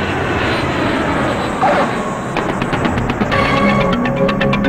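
An airplane flies past in a Telugu film scene, its engine a loud, steady roar with a throbbing, pulsing quality that grows in the second half.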